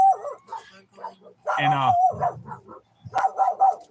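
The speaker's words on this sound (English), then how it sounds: "what are they barking at?" Dogs bark and yip in a short burst, fairly close, with a whimpering edge. A person speaks briefly over the barking.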